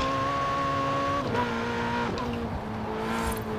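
A Ferrari 488 Pista engine in Forza Horizon 4 holds a steady, high-pitched, tonal drone that steps down in pitch at each gear change, loud and continuous, with no talk.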